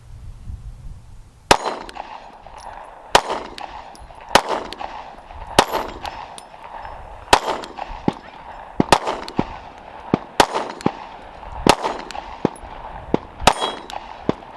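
A Sig P365 pistol fires a string of about a dozen sharp, loud shots with a ringing metallic tail, spaced roughly a second apart and heard up close.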